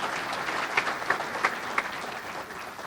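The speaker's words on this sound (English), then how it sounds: "One more round of applause for all of our Hall of Famers who have joined us tonight" Applause for Hall of Fame inductees at the 2015 USBC bowling Hall of Fame induction ceremony, a steady crowd clapping throughout with a few sharper claps standing out, moderately distant.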